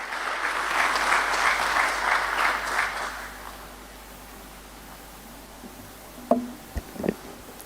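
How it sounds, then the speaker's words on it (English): Audience applause at a stock exchange listing ceremony for Adon Agro Commodities Limited at BSE. It is loud and dense for about three seconds, then fades away, with a few sharp knocks near the end. "Can we please have a little round of applause, ladies and gentlemen?"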